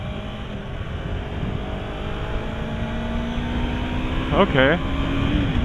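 2015 Yamaha R3 sport motorcycle accelerating onto a freeway, a steady engine drone rising in pitch with wind rush, close, and a voice briefly speaks near the end.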